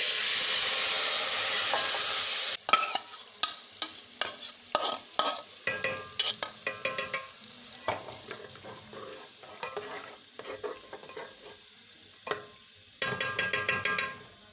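Prepared masala goes into a pan of fried chillies for a Hyderabadi besan bariyan salan. A loud burst of hiss comes first, then close stirring scrapes and clatters over a softer sizzle, with no talk.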